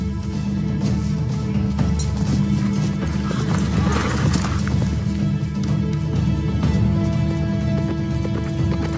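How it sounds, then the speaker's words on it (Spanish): A horse's hooves pound in a fast, steady clip-clop rhythm, loud and continuous throughout with no voices. "Toma el caballo de Truesdale."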